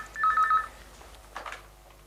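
A telephone number is dialed, its short keypad tones beeping in a quick even run, followed by a faint, brief ring on the line in an otherwise quiet room.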